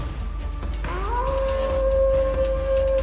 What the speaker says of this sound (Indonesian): Itu kan suara serigala.